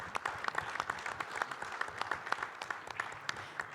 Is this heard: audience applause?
yes